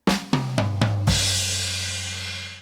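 Played on a drum kit, a right-left fill runs as five quick tom and snare strokes, then a crash cymbal hit rings out loud and close, fading slowly.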